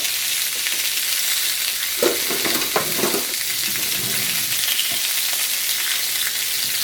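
Meat browns in a hot pan with a steady, close sizzle, and a few brief clatters of a utensil break through partway. No one speaks.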